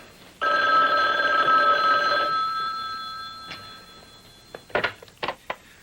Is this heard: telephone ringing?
yes